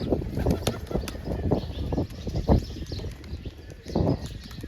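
Released pigeons flap their wings in close, irregular bursts of fluttering thumps that swell and fade over several seconds, with no talking.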